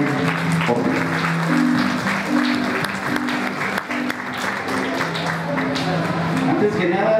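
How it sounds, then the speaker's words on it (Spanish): An audience at a school event welcomes a police officer with applause, sustained clapping that runs for several seconds while voices and crowd murmur carry underneath. "Recibamos con fuertes aplausos"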